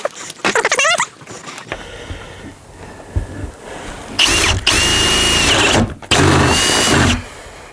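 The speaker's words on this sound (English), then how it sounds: "It's a little cold this morning, so the drill doesn't want to work." Cordless power drill struggling in cold morning air at a swine watering setup, whirring in short bursts: a brief rev, a quiet stretch of small clicks, then two longer loud runs separated by a pause.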